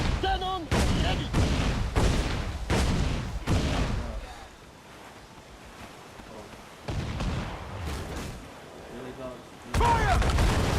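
Several heavy cannon booms in quick succession, then a lull with rumbling aftermath, followed by more loud blasts near the end.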